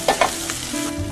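Chopped garlic and ginger fry in hot oil for a stir-fry with Hunan sauce, a close, steady sizzle broken by a couple of sharp stirring scrapes, with no talking.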